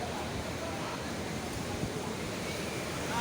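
Storm-driven flood waves surge and wash during a July typhoon, a constant, dense roar of water and wind that stays fairly soft and even throughout.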